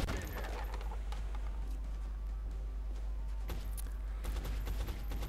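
Dense, continuous suppression gunfire crackles throughout in the video game XCOM: Enemy Unknown, a sustained barrage of rapid shots with sharp bursts standing out near the end, loud and busy.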